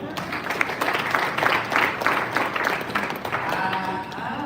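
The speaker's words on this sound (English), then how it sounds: "Can you clap for her?" Members of an audience at a live wellness event clap for a woman, a short burst of mixed hand claps with crowd murmur and some talking mixed in, fading slightly near the end.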